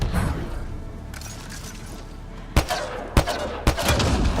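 Gunfire in Mass Effect: Andromeda aimed at a volatile canister: three sharp, loud shots spaced about half a second apart, each followed by a short crackling tail, after a quieter ambient stretch.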